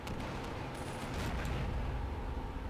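Gunfire in the war video game Assault Squad 2 (Greece at War), a few quiet, distant-sounding shots and cracks over a low battlefield rumble.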